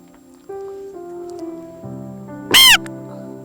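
After a low steady drone, a person gives one loud, sharp caw in imitation of a crow.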